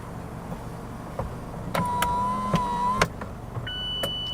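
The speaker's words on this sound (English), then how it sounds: "it has a retractable hardtop and has this neat little party trick up its sleeve" The retractable hardtop of a Mazda MX-5 RF operates, a quiet electric motor whine running under a series of sharp mechanical clicks and clunks as the roof panels move and latch, ending with a faint beep-like tone.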